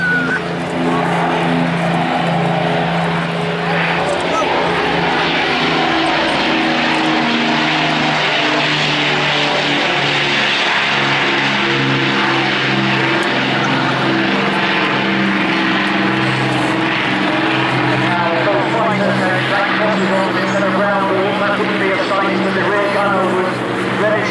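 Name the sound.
Battle of Britain Memorial Flight propeller aircraft flying in landing configuration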